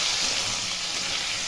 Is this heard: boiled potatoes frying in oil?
yes